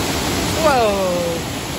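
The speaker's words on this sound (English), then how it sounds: "Waterfalls." Waterfall on Mount Olympus at the end of a hiking path, a steady broad rush of falling water heard close, with a brief voiced exclamation over it.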